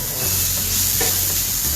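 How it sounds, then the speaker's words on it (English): Keema filling being stirred and sautéed in a pan with oil, with a steady close sizzle and a few brief scraping strokes across the pan, no voices. "So you give it a quick stir and saute it for a minute."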